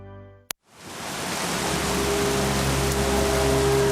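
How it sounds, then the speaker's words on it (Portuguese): Steady rain pours down continuously after a brief sharp click, building into a dense, loud, even hiss that fills the scene from near and far. "A água da chuva é essencial."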